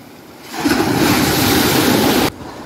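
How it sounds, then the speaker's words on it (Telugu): Sea waves surge and break at Katepalli beach near a swaying bridge, a loud broad rush that rises after a quiet start, holds steady for almost two seconds, then drops away abruptly. "చూడండి ముందర ఎక్కడి నుంచి లేస్తాను అలలు"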